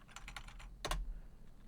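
Typing on a computer keyboard: a quick run of soft key clicks followed by two sharper, louder taps, close and quiet with no talking.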